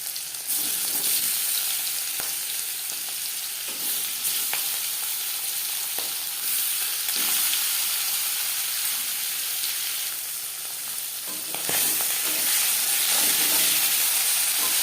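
Pangas fish fries in refined oil, a steady loud sizzle and broadband hiss running throughout with occasional faint clinks and surges, no voices.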